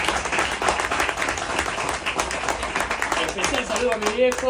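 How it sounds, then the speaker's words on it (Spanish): An audience claps at a book presentation, a dense patter of hands heard through someone speaking over it, the applause holding steady under his voice. "para quien pide un gran aplauso"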